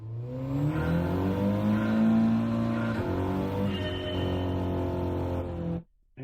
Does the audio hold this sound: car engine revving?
yes